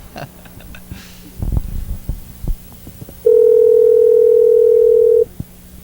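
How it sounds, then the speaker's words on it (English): A telephone ringback tone heard through a phone line during a call: one long, steady electronic tone lasting about two seconds, preceded by faint handset clicks and low thumps. "Listen to the phone ring for a little bit here."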